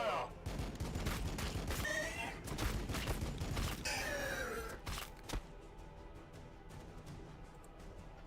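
Gunfire from units in the game Warhammer 40k: Battlesector crackles in dense volleys through the first five seconds, then thins to scattered sharp reports under a low rumble, with voice-like cries mixed in.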